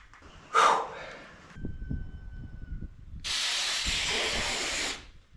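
Air arc gouging on steel, with a compressor feeding air: a brief sharp blast of hiss, then a crackling, rumbling stretch, then a loud, steady hiss of air lasting nearly two seconds before it cuts off.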